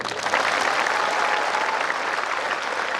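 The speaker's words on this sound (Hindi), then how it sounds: "तो ये ताली है आप खुद के लिए।" Steady applause from a large, enthusiastic audience at a coaching-institute speech event, dense and sustained throughout with no speech over it.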